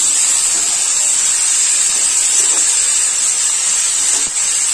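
Steady, loud sizzling hiss of pumpkin, potato, yard-long beans and fish being stir-fried together in a pan for a Bengali village-style chorchori, continuous and close with no pauses.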